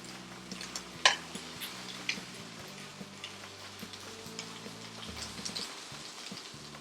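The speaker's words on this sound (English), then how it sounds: "I'm gonna start frying the onion first so I can get more flavor" Onion frying in a pan for a Korean braised potato side dish gives a soft, steady sizzle with scattered light crackles and pops, a low hum underneath.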